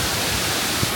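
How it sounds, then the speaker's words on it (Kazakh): A very large waterfall in Georgia roars close by, a loud, dense, unbroken rush of falling water filling the whole moment with no speech. "Мынау үшінші сарқырама көріп тұрғанымыз өте үлкен."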